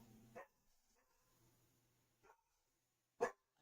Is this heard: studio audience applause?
no